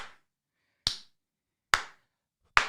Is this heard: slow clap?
yes